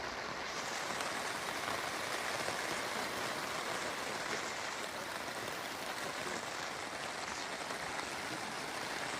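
Heavy rain pouring down on a camper van during overnight camping, a dense, unbroken hiss and patter that stays loud and even throughout, with no voices.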